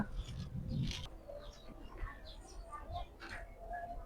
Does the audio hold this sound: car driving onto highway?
no